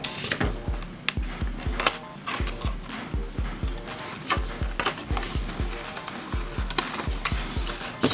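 Packaging for a JBL C100SI wired earphone box being cut open, a quick run of crisp ticking cuts and scrapes in a steady, close rhythm.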